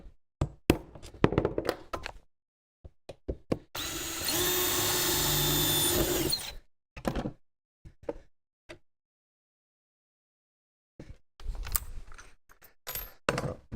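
A power drill fitted with a 1/8 inch bit bores steadily for about two and a half seconds. Sharp knocks and taps come before and after it, with a long quiet gap in between.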